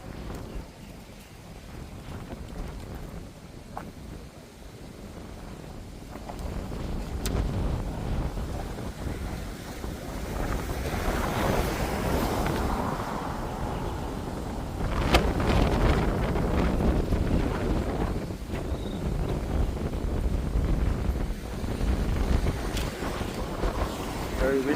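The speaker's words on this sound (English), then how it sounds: "Very windy today." Strong wind gusting outdoors along a coastal avenue in Montego Bay, Jamaica, near a building site, with steady broadband buffeting on the microphone that builds and stays loud throughout.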